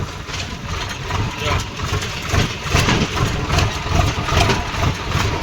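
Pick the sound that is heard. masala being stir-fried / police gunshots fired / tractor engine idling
tractor engine idling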